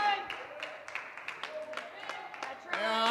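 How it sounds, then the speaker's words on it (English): Two people clapping their hands during a church service: a steady run of crisp claps beneath a preacher's raised, talking voice. "I appreciate the two clapping their hands for me this morning"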